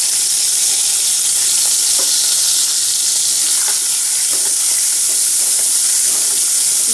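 Chopped onion sautéing in hot oil with spluttering cumin seeds, a loud constant sizzle and hiss up close with faint scrapes of stirring, no talking.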